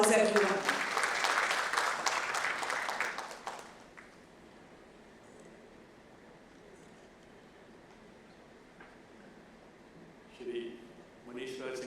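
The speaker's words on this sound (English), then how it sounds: "With a thunderous round of applause, everyone." An audience at a formal inaugural session of an insurance and automobile dealers' gathering bursts into a loud round of clapping that fades after about four seconds, leaving quiet room hum before brief speech returns.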